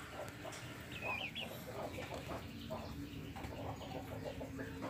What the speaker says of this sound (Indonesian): ini ayam petelur yang pertama kali netas usia sekitar sebulan lebih.